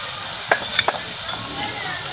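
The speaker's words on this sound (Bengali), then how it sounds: "এবার আমি ভালো করে নেড়ে নেবো" Spices sizzle and fry in a pan for begun vaja, with a steady hiss and a few brief scraping clicks as they are stirred.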